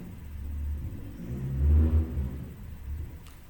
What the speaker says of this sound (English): He's probably just revving it up outside his house